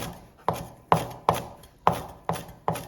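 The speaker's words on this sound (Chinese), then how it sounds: "准备几根小葱，我们给它切成葱末" Green onions chopped finely with a kitchen knife on a board, six crisp, evenly spaced strikes ringing out close and clear with no voices.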